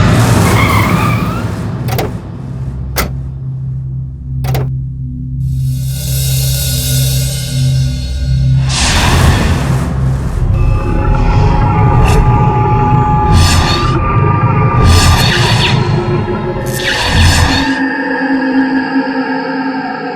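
A car speeds hard through a chase, engine roaring under repeated loud tire squeals and skids, with sharp impacts early on and rising, sweeping whines and screeches that come close and loud.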